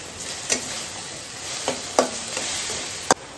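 Cabbage fries in a pan with a steady close sizzle, broken by several sharp scraping stirs of a spatula against the metal.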